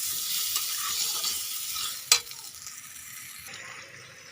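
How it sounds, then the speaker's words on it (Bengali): Potatoes frying in a pan for a meat curry give a steady, close hiss with soft stirring scrapes and one sharp knock of the utensil against the pan midway. "আলুগুলো ভাজা করছি"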